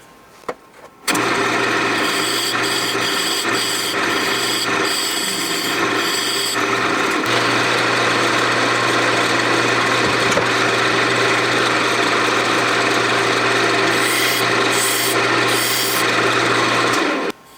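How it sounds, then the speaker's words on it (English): A lathe hums steadily while sandpaper up to 320 grit rasps against a spinning wooden bowl, with a continuous loud gritty whir and rhythmic scraping bursts near the start and end. "Sanded this down to 320 grit."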